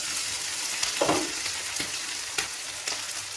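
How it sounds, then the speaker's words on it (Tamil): Chicken chukka pieces frying in oil in a pan, an even crackling sizzle broken by a few soft knocks and stirring clinks, no speech. "இந்த பக்கமும் ஒரு அஞ்சு நிமிஷம் நல்லா வேக விட்டு எடுத்துக்கிறேன்"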